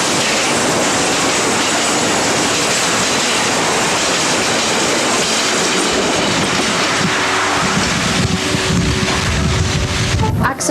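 A freight train rolling along the main Cork-Dublin railway, loud and close, with continuous rumbling wheels and clickety-clack over the rails and a sustained squealing tone toward the end.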